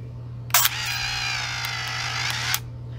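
Ricoh FF3 autofocus film camera motor winding film: a single two-second whirring burst with a sharp click at the start and end, close and clear over a low steady hum.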